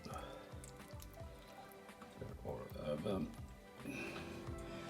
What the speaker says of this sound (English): now the next step is that I'm going to pour the sauce back on